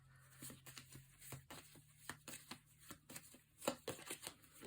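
Tarot cards shuffled by hand in a quiet room, a soft run of papery riffles and taps in irregular bursts, close and faint with no talking.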